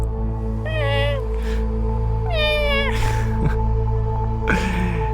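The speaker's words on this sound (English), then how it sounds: "And it begins to develop into a meow." A young kitten meows repeatedly, rising squeaky cries spaced about a second apart, close and clear over a steady low hum in the background.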